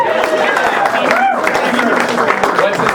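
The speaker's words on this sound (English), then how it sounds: "let's just clap for him" Applause from an audience for a speaker at a geospatial meetup talk, steady clapping mixed with murmured voices and chatter close by.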